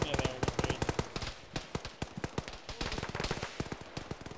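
Rapid automatic gunfire rattles through an Arma firefight, a fast string of sharp cracks in uneven bursts with brief pauses, moderately distant, voices talking faintly underneath.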